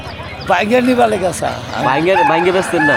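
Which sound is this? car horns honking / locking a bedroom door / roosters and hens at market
roosters and hens at market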